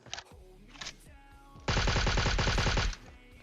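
Automatic gunfire in PUBG Mobile, a loud rapid burst lasting over a second after a couple of fainter earlier shots, close and sharply repeating.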